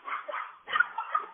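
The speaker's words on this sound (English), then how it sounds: "I have my grand doggies here too, so barking is fine." Pet dogs bark and yip in a home kitchen, two short bursts of barking close by, with no speech over them.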